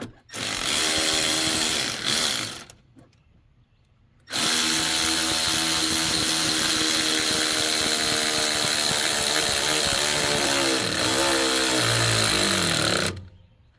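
Power tool driving and tightening a 7/16 bolt, two loud sustained whirring bursts separated by a short pause, the second running about nine seconds with rising strain toward the end before cutting off.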